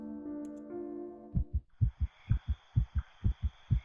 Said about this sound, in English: With my heart pounding in my ears, it takes a while to remember where I am.